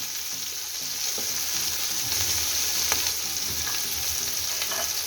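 Chicken pieces with red capsicum and onion fry in a pan for an Eid dish, giving a loud, steady sizzle with faint stirring scrapes throughout.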